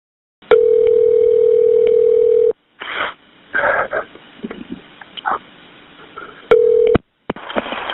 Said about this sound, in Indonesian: Pada jam 4 sore 18 September 2014, kepolisian setempat mendapat telepon darurat 911 dari Donald Spirit.